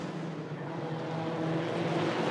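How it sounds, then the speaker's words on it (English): Race cars rev and roar as the green flag waves on the front straightaway at the start of the 52nd Grand Prix de Trois-Rivières, a loud, continuous engine drone that swells gradually with no talk. "the revs come up here on the front straightaway, and the green flag waves"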